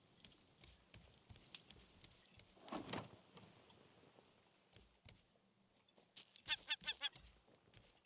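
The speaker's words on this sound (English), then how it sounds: "Buzz off, you stupid bird." In the survival game Raft, a bird squawks harshly at the player in a couple of short bursts, set against quiet ambient game sounds and scattered clicks.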